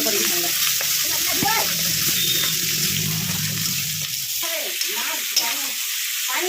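Ground masala of salt, turmeric, chili, cumin, ginger, garlic and onion fries in hot oil with a steady, close crackling sizzle that runs the whole time, with faint stirring underneath.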